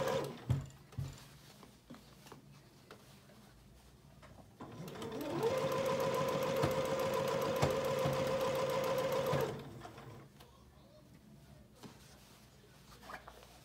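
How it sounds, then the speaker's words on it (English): A sewing machine stitches a child's apron along a pressed fold over gathered fabric, running steadily for about four seconds in the middle and then stopping, with quiet handling noises before and after. "we're gonna be sewing in the fold that you pressed. Be sewing over all of your gathers."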